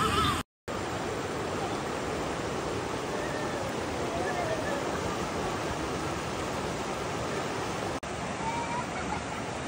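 Fast-flowing flooded river water roars as a dense, constant rush, near and loud, after a washed-out suspension bridge in Malaysia, with a brief dropout near the start.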